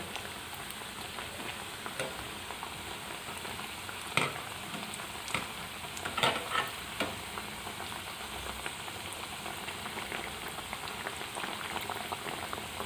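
Beef cutlets frying in a pan, making a steady dense sizzle and bubbling crackle throughout, with a few sharper pops and spatters rising above the continuous hiss.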